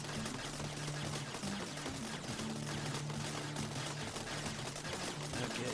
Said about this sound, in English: there's somebody shooting at me with a laser